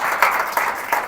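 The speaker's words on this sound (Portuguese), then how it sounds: "Dê uma salva de palmas para o Senhor Jesus" A church congregation claps together at an evening service, giving a short burst of steady applause that swells in a few pulses.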